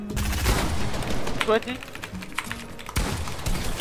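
Gunfire from a 3v3 shooter video game match rattles in quick bursts under excited player voices talking over the action.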